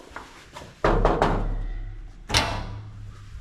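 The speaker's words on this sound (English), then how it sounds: "We've got a lovely metal door" A metal kitchen door that does not shut properly at the bottom is handled, giving two loud thuds close together, a sliding rattle, and a second thud a little over a second later.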